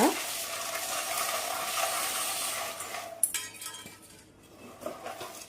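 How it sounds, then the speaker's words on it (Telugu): Boondi being stirred into hot jaggery syrup for sweet-shop style boondi mithai, a steady sticky scraping and churning close by, with a few sharper clinks of the spoon against the pan toward the end. "మొత్తం బాగా బూందీ బెల్లం అంతా కలిపేలాగా మనం ఇలా కలుపుకుంటూ తిప్పుకోవాలి"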